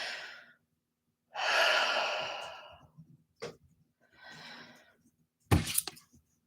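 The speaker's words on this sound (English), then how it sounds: "go ahead and take one more big deep breath" A big deep breath taken during an emotion code session: a long breathy inhale and exhale, preceded and followed by softer breaths, a brief click and a sharp knock near the end, close and fairly quiet.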